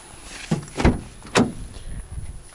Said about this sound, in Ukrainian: Заблокувались двері.